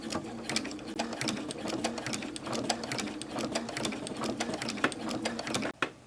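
A sewing machine fitted with a walking foot, feeding fabric in a fast, even mechanical chatter of stitches up close, ending with a brief clunk as it stops.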